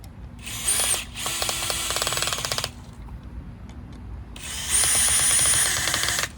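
A power drill whirs in two loud bursts separated by a pause while assembling a multi-stage pump, its high grinding whine chattering against the screw as the bit slips and strips the screw head.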